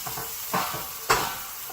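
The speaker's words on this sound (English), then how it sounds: "I'm going to pan fry these a little bit, just, brown them." Pork blade steak sizzling as it pan fries for a braise: a close, crackling hiss with a couple of brief louder bursts as the meat is moved in the pan.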